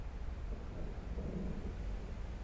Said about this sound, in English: I hear thunder, what sounds like thunder, and it doesn't sound like rain today.